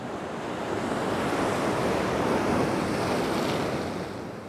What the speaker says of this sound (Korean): 파도가 갑자기 또 세지는데,